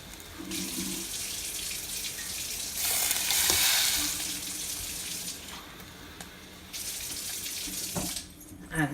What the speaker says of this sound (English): So let's add our water.